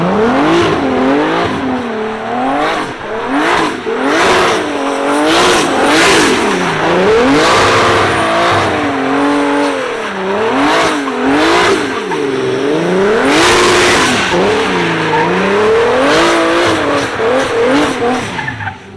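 A competition-chassis drift car slides through a long run, its engine revving hard in rising and falling waves while tires squeal continuously, loud and close throughout with no talk.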